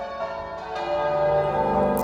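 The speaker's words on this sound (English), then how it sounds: "You'll be hearing some church bells as well" Church bells in Warminster ring out, with overlapping tolls sustaining and blending into a rich, resonant wash that stays fairly loud across the short stretch.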